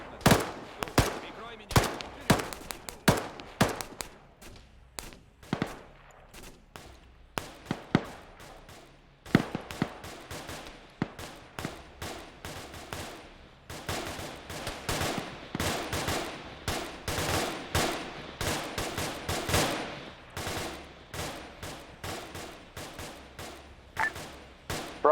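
Sustained suppressive fire into a tree line in a military shooter game: repeated automatic rifle and machine-gun bursts, some close and loud, others more distant, rattling in irregular volleys with brief pauses throughout.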